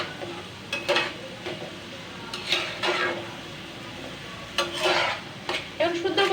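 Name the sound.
stirring and sautéing curry in a pan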